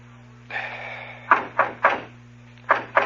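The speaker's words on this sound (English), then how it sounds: "Go on, knock." Knocking on a door as a radio drama sound effect from a 1940s crime broadcast, a series of distinct hollow raps, one then two spaced knocks, close and clear over a low steady hum, after a brief muffled rustle.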